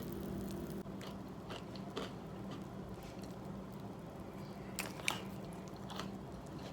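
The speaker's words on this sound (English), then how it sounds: "I'm gonna have 2 cups of Cheerios, and I'm going to put in it some mixed fruit and a cup of almond milk" Someone eating a bowl of Cheerios with mixed fruit and almond milk, with close, soft chewing and biting at a steady pace and a few sharper crunches near the end. No one talks.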